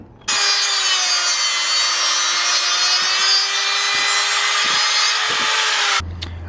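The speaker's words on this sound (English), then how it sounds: "I'm going to cut this stock bracket, or the bracket that came with it" A power tool cutting the stock metal bracket from a light bar on a Mazda Miata; a continuous high, shrill whine with a low steady tone for about six seconds, dotted with faint ticks, then stopping abruptly.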